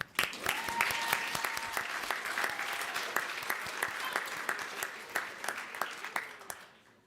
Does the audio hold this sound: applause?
yes